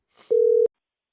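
A single steady electronic telephone tone sounds once for about a third of a second, clear and isolated after a faint breath of noise, while a call is placed back to someone.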